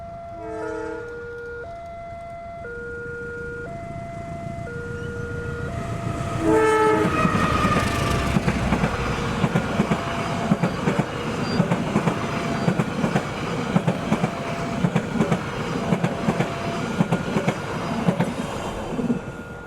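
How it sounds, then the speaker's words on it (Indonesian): A passenger train horn sounds in long repeated blasts, then the train rumbles past with loud, rhythmic clattering wheels that continue steadily. Madiun Jaya train in Indonesia. "harusnya di sini bertemu dengan kereta api Madiun Jaya"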